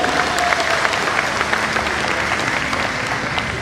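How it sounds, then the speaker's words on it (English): An audience applauds at a naming and delivery ceremony for superfast crew boats, producing a steady, even wash of clapping that continues unbroken throughout. "Let's give a big round of applause to all of you."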